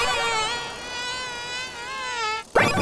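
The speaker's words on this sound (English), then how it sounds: "Mosquitoes!" Cartoon mosquitoes in a swamp give off a loud, continuous high-pitched wavering buzz that drones close by, then cuts abruptly to a short whooshing burst at the end.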